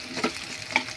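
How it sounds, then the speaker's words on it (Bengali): Potatoes and onions fry in a pan with a soft, close sizzle and two brief stirring scrapes, one near the start and one near the end of a short moment. "আলু দিয়ে পেঁয়াজের সাথে কিছুক্ষণ আমি ভেজে নেব।"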